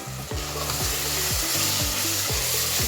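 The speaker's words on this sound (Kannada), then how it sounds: "ಹಾಗೆ ಫ್ರೈ ಮಾಡ್ಕೋತಾ ಇದ್ದೀನಿ" Meat frying in a pan with chili powder and garam masala, a steady loud sizzle broken by regular rhythmic spoon strokes about every half second, close and without talk.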